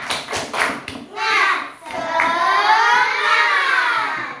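Classroom of children doing the "tepuk semangat" clapping chant, a few sharp hand claps at the start followed by loud chanting voices together, near and lively.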